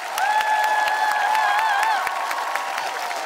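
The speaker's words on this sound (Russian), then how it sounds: "И отдельные аплодисменты лучшему лидеру сотни." Applause and cheering from a TV show studio audience, a steady wash of clapping with whoops and voices rising over it, fairly loud throughout.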